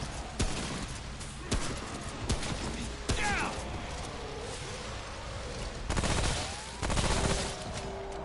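SMG bursts in the video game Remnant: From the Ashes, several sharp rapid volleys spaced across the span, loud against a quieter game ambience, with some brief whooshing effects between shots.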